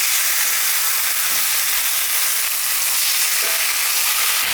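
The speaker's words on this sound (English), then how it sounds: "I'm going to add some oil. And I'm going to cook my steak in 2 batches." Skirt steak frying in hot oil in a pan over medium-high heat, a steady dense sizzle and crackle held close and loud throughout, with no talking.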